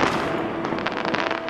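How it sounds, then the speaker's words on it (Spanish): Fireworks crackle and pop in the Hitman video game, a dense continuous barrage of bursts filling the scene at close range with no talk. "disfrutamos un poco de los fuegos artificiales."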